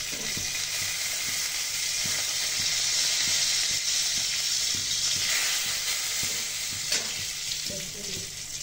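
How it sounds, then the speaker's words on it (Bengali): Two bay leaves and two dried red chillies sizzle in a spoonful of hot oil in a kadai (wok) on the stove, a steady, loud frying hiss that runs through the whole clip, with faint clicks and pops underneath. "আমি কড়াইটা বসালাম, উনুনে 2টো তেজপাতা, 2টো শুকনো লঙ্কা দিয়ে দিলাম, 1 চামচ তেল দিয়ে দিলাম"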